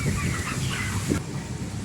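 Broiler chickens clucking in a poultry farm room in Malaysia, a dense continuous murmur of many birds over steady background noise, close and even throughout.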